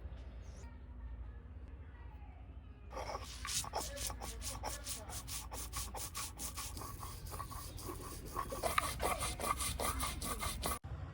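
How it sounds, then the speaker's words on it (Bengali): Mustard seeds are ground by hand on a stone with green chillies and salt, giving a steady, close scraping and rubbing with rapid rhythmic strokes that begin after a quiet pause and continue to the end. "আমি এখন সর্ষেটা বেটে নেব"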